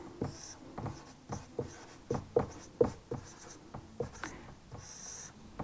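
Chalk or marker writing on a board during a lesson on human teeth: a series of sharp, scratchy strokes and taps in irregular bursts, fairly close and clear, with no talking.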